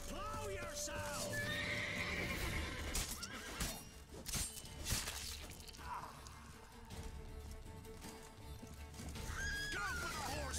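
A horse whinnies in The Witcher 3: Wild Hunt, with a loud neigh at the start and another near the end, framed by clip-clopping hooves, crashes and busy game sounds, with voices talking at times.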